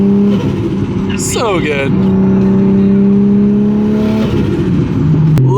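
A 750whp Toyota JZX100 Chaser engine revs hard and loud up close, its steady droning note climbing and falling through several throttle blips, with a brief voice speaking over it.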